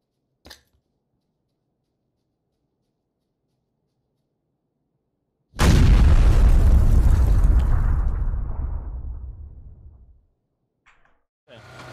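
A single heavy explosion booms up close in the video game PUBG after near silence, its rumbling blast decaying over several seconds, with a faint click before it and a short burst after.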